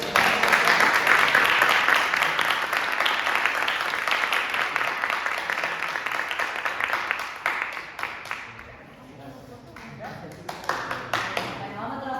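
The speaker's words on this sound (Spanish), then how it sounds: "Hacemos un aplauso por Dale." Applause from a group at an introductory talk on the body in a cultural centre, a dense burst of clapping that gradually thins into scattered claps and fades, followed by a few isolated claps as voices talk.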